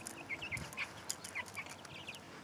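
Backyard chickens cluck in short, soft bursts scattered across a quiet outdoor scene, several small calls in quick succession at moderate distance with faint background noise.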